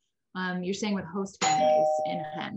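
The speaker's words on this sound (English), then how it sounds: "I think that's my doorbell" A two-tone doorbell chime rings clearly in a home while a person keeps talking over it, the sustained ding tones ringing out under the voice.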